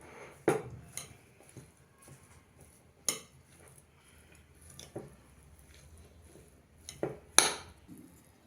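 Sweet corn and cheese paratha stuffing with green chilli thecha and coriander being mixed in a bowl, quiet soft squishing with a few scattered clinks of a spoon against the bowl.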